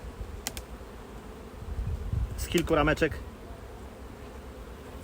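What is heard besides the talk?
honey bees buzzing, shaken off brood frames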